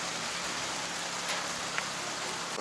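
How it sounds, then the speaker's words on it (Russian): Rain beginning to fall outdoors, a steady dense patter of drops on surfaces with a few brief louder ticks, continuous and fairly close, no voices. "и начался еще и дождь."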